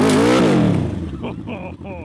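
A 550cc engine fitted to a Little Tikes toy car roars loudly as it launches, its pitch climbing and then falling away, with voices over the tail end.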